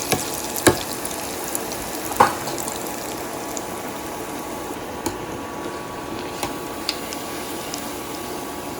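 An aloo-egg sandwich frying in hot oil gives a soft, steady sizzle with scattered pops and crackles, fairly quiet and close, with no talking.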